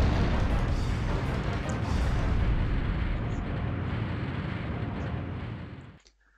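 Gunfire in the Dino Crisis 2 video game, a dense, continuous roar of shots and blasts that holds loud for several seconds before cutting off abruptly.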